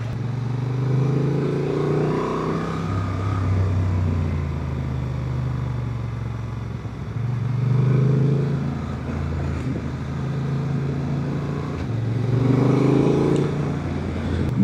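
A Honda Transalp 750 motorcycle with an E-Clutch, ridden on the road, its engine droning steadily and rising and falling through several gear changes, close and loud with no voices.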